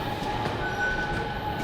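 A metro train rumbles steadily through a subway station, a dense continuous roar with faint tonal whine, no one speaking.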